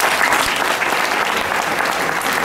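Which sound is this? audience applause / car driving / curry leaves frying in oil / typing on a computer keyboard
audience applause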